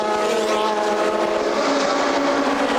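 Porsche 997 RSR race car at Monza, its engine a high, sustained, rasping note carried with broad track noise at even loudness, no voices during it.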